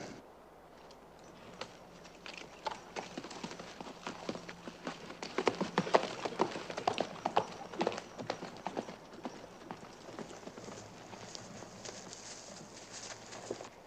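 Rapid hoofbeats of several horses galloping, a dense, uneven drumming that swells louder midway, with a low rumble underneath and no talking.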